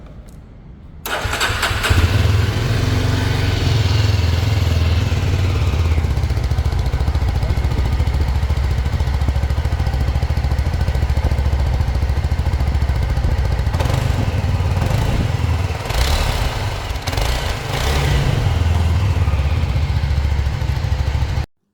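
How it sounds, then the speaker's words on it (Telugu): A 2024 Yezdi Scrambler motorcycle with dual exhausts starts and idles close by in a loud, deep, steady thrum, with a few brief throttle blips near the end. "సో దీనికైతే డ్యూయల్ సైలెన్సర్ ప్రొవైడ్ చేశారనమాట, డ్యూయల్ ఎగ్జాస్ట్. ఒకసారి ఎగ్జాస్ట్ సౌండ్ కూడా మీరు వినండి."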